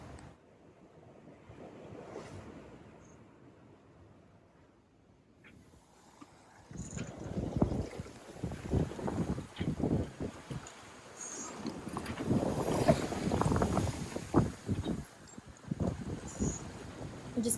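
Wind and waves surge around a sailboat on the North Sea in late fall, a low rushing swell that starts soft and grows louder and choppier with gusts of wind.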